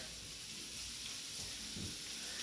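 Fat sizzles softly in a hot pan, a quiet, even, continuous hiss with no voices over it.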